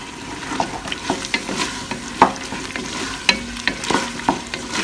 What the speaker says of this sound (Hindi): अब ये भुनना शुरू हो गया है